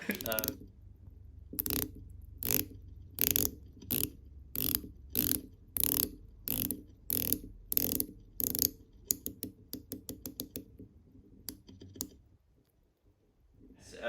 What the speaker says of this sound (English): So the bezel action is very smooth and very reassuring, actually.